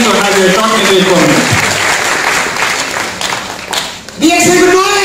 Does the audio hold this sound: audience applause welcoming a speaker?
yes